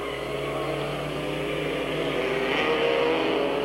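A stalled race car at a small speedway gets running again, its engine droning steadily at a distance with a rising tone near the end, with no voices heard.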